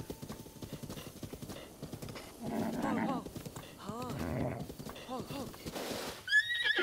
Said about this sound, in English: I got a horse. I got me a wild horse.